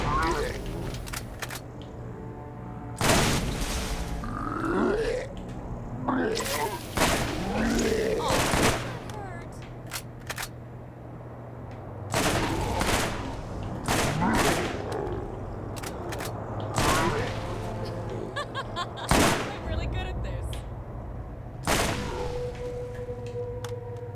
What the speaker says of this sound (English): Let's try this blast weapon.